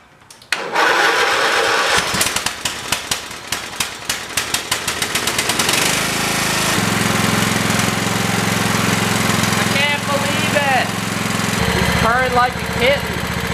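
An old lawn mower with a Kohler engine cranks with rapid sputtering bursts, catches, and settles into a loud, steady running drone that fills the whole stretch, with a few faint high chirps near the end.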